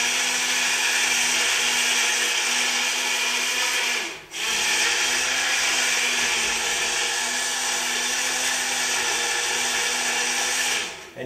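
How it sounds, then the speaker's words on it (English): An immersion blender purees hot mushroom soup, running as a loud, steady whir close by, with a brief dip in pitch and volume midway and another near the end as it shifts through the pot. "I'm going to put the blender in all the way to the bottom, and I'm going to keep the blender on the bottom."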